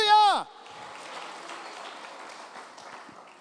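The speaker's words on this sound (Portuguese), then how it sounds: "As palmas para Ele" At a church service, a voice calls out briefly at the start, then the congregation claps in a steady, fairly soft wash of applause that continues to the end.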